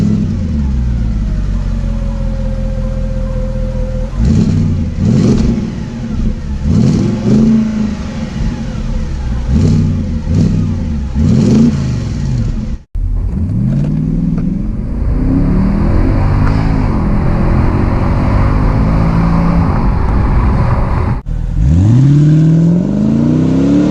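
The 6.2-litre naturally aspirated V8 of a 2010 Mercedes-Benz ML63 AMG idles with a deep rumble, then revs repeatedly in sharp bursts before roaring up loudly, close by and throaty.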